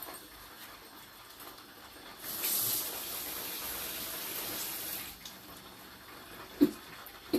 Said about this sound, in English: So now I'm just gonna add a little bit of water.